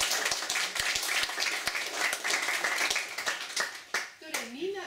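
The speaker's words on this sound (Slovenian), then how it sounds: "Lep aplavz." An audience applauds a woman zither player, with a brisk patter of many hands that thins toward the end as a voice begins speaking over it.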